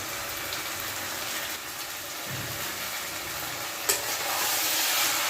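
Chicken pieces with skin and potatoes are stirred and fried in a pan, giving a steady soft sizzle with occasional scraping stirs and a brief clink, growing slightly louder toward the end.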